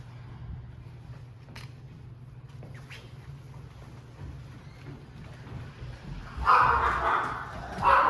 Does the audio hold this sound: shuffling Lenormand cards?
no